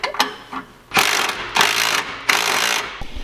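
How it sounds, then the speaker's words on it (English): Exhaust bolts on a Ferrari being tightened with a ratchet, heard as several loud, close bursts of rapid clicking separated by short pauses, with a few faint metallic taps between them. "let's tighten some bolts"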